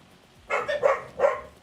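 Dogs in Farming Simulator 25 give three loud, close barks in quick succession, the last two clustered and the third after a short pause.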